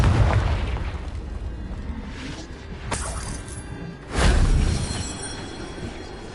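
A Confringo fire-blast spell erupts in Hogwarts Legacy, a heavy booming burst over a loud rumbling game backdrop, followed a moment later by a second stronger explosive blast.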